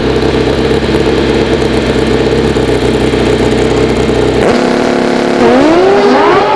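Prostar drag bike engine at a 2002 AMA drag racing championship, a loud continuous roar that drops and then rises sharply in pitch as the bike launches hard and accelerates away.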